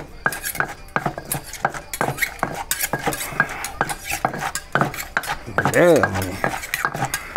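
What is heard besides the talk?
stir-frying cucumber in a pan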